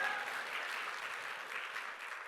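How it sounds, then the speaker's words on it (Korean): A church congregation claps together at a worship service, a dense, steady wash of many hands sustained at an even level throughout with no pauses. "박수."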